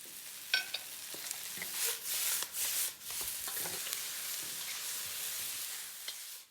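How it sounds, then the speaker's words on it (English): Shrimp stir-fry in a hot pan with salt and onions, a steady sizzle with scraping stirring strokes and a few sharp clinks, close and fairly loud throughout. "Stir fry to release the fragrance. Add the shrimp in, and then the salt."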